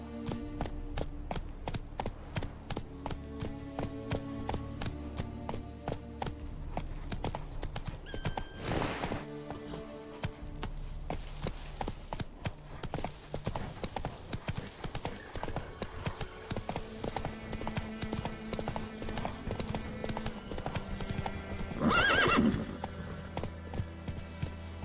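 Roach, Geralt's horse in The Witcher 3, gallops with fast, steady clip-clopping hooves under game music, and a neigh breaks through near the end; faint speech appears briefly.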